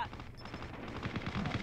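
Gunfire in Call of Duty Mobile, with a Kilo assault rifle among the weapons, comes as rapid, dense bursts of shots running through the whole moment at fairly close range.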